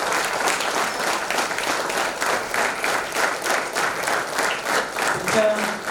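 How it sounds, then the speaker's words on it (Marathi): A live audience at a Pune show keeps clapping steadily, a thick, even roar of many hands with gentle swells in rhythm, loud and unbroken from start to finish, with a voice faintly over it near the end. "आणि या टाळ्या सतत वाजल्या पाहिजे कंटाळा येईपर्यंत."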